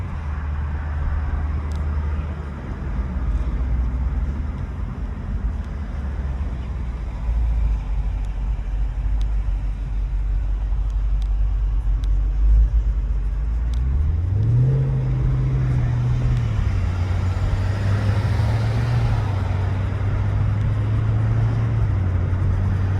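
A car drives steadily along with a continuous low engine drone and road rumble, the engine pitch rising partway through as it accelerates, heard from inside.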